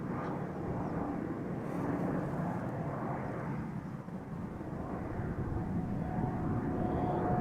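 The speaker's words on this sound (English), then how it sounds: "Finnair A350 to Helsinki, ladies and gentlemen. Just took off from runway 24." A Finnair Airbus A350 climbs away after takeoff from runway 24 at Amsterdam Schiphol. Its jet engines make a steady, broad, rumbling roar at some distance, holding level throughout with no voices.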